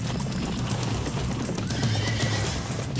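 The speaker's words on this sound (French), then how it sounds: "Qu'est-ce qui se passe avec les chevaux?" Horses in a Power Rangers adventure episode neigh and whinny amid hoof clatter, a dense continuous commotion that stays steady and fairly loud for the whole stretch with no talking over it.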